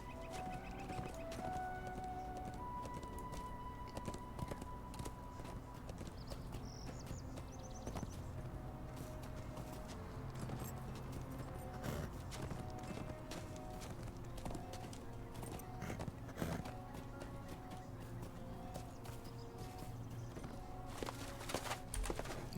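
Horse mount hooves clopping in the Lord of the Rings Online video game on a mountain path, a steady rhythmic clip-clop of moderate loudness, with faint birds in the game background.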